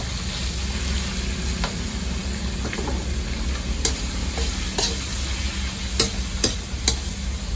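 Rat meat stir-frying in a pan, a steady sizzle with a low rumble beneath, cut by a handful of sharp scraping clacks of a spatula against the metal.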